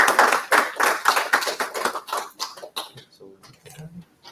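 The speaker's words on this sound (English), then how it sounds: "Please give us a round of applause." A small seminar audience claps for a few seconds after being asked to, the applause loud at first and thinning to scattered claps, with a brief voice and movement at the end.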